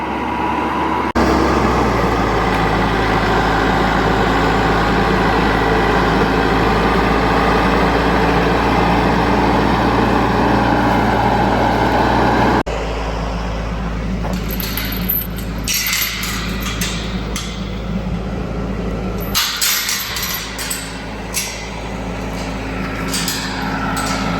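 A cab tractor's engine runs steadily up close, a continuous low diesel drone that holds throughout, with a shift partway through as clattering and rattling noises join the rumble.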